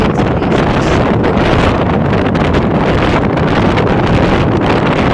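Strong wind blowing across open country near wind turbines in the Chitradurga region, loud continuous buffeting and roaring against the microphone with no voices.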